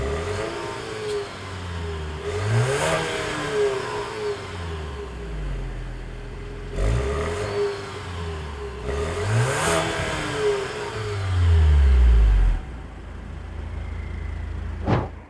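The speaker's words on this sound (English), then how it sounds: "dual exhaust system, actually active exhaust system. So Maserati says it sounds same, so let me just let you hear it" Repeated revving of a Maserati Levante Hybrid through its active dual exhaust: several sharp blips rising and falling in a rhythmic sequence, ending with a deeper, louder rev and a settled idle, close and clear with no talking.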